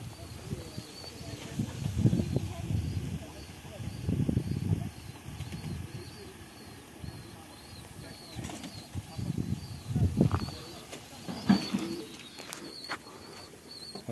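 Cooing of young pigeons, three-month-old chicks hatched this year, in a loft, with soft repeated low coos and some wing flapping, fairly near and moderately loud against steady background noise.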